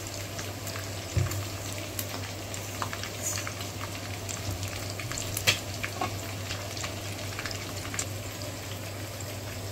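Oil sizzling in a pan before garlic, ginger and green chili go in, a steady close frying hiss with faint crackles and a low background hum, no voices.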